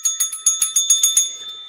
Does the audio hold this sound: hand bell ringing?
yes